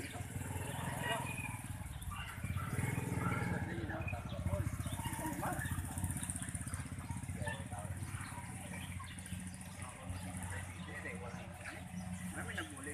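A rice harvester works in a field, its motor running as a steady, continuous rumble with a droning hum that persists throughout, while people talk over it.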